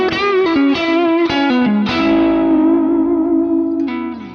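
Electric guitar played through a Kemper profile with a boost pedal adding mid-range but no extra drive, a few quick picked notes and then a held ringing note with light effects, loud and alone.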